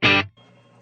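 Clean electric guitar through a clean amp with no reverb and no overdrive: a single loud strummed chord that stops short, leaving only a faint, dry remainder.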